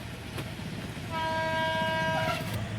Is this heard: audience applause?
no